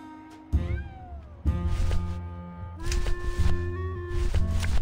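A cat meows repeatedly in the video game Grim Fandango Remastered, several drawn-out, close mewing calls in a row over a low background hum.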